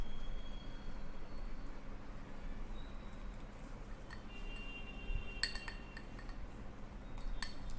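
Spoon clinking against a bowl while liquid activator is stirred into cream bleach, soft scattered taps and scrapes over a steady low background hum, fairly quiet and close.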